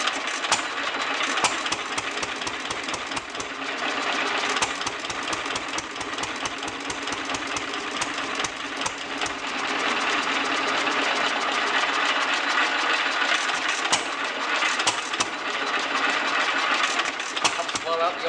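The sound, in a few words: 1929 Fairbanks Morse Z engine running after first start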